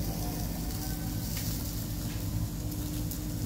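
Hot oil sizzles steadily around a besan flatbread in a pan, a continuous close frying hiss with no speech over it.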